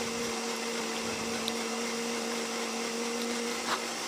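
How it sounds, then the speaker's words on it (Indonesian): An electric blender whirs continuously while mixing a diet shake, a steady motor drone with a high whine held throughout, moderately loud and alone without talk. "Nah, ini kita blender dulu ya."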